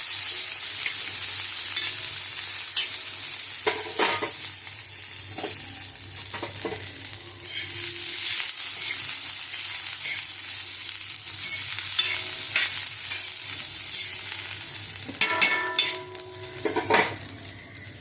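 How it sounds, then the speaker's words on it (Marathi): Garlic fries in a pan as it is stirred, making a steady low sizzle with intermittent metallic scraping and clinks from a utensil against the pan, all close up and without talk. "थोडीशी लसूण टाकायचं, त्याला पण भाजायचं"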